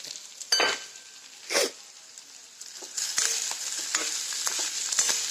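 Gram flour (besan) with peanuts is roasted in a pan, the spoon scraping and stirring in two sharp early strokes, then a continuous dry, crackly sizzle and scraping close by, with no voice.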